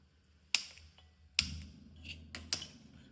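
A kitchen gas stove is switched on, giving three sharp, close ignition clicks spaced about a second apart, followed by a low, steady rumble of the lit burner, with no talking.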